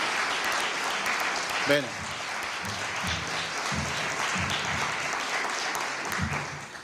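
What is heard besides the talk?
audience applause for the girls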